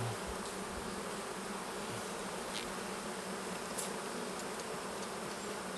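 Honey bees droning steadily in an open, queenless hive during an inspection after a split, a dense close buzz that holds without a break, with no voices.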